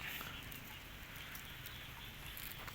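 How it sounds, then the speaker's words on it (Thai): Rain falls steadily on a rainy-season goat farm in Ubon, Thailand, a constant close hiss of patter with no pauses and no voices. "ฝนกระตก"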